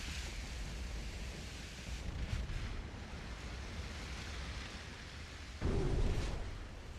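In the naval game Ultimate Admiral Dreadnoughts, a torpedo hits a ship with a dull, rumbling boom over steady ocean and engine noise, followed near the end by a second heavier impact.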